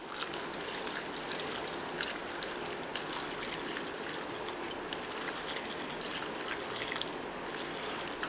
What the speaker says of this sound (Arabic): راح ادير عليه مي هسه شلون نقول نخضه من الملح الزايد اللي بيه